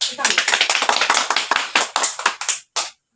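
A small group claps at a local political campaign gathering, a short burst of close, distinct handclaps that thins out and stops abruptly near the end.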